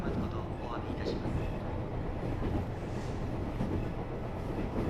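A commuter train runs on rails through snow, giving a steady muffled rumble heard from inside the carriage, with faint clicks and voices under it.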